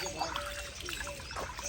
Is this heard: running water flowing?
yes